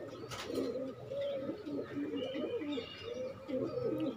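Kaldumi pigeons, a pair newly landed, cooing in repeated soft throaty rolls, close and steady, with faint chirps in the background.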